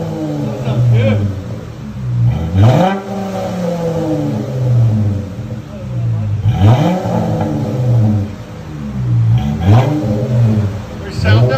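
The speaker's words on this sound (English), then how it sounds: "Let you guys hear on the inside. FLOWMASTER Super 10 rear delete." A Dodge Challenger 3.6L V6 with a Flowmaster Super 10 exhaust and rear delete revs from inside the cabin in three loud surges, each rising and falling, with a steady idle drone between them.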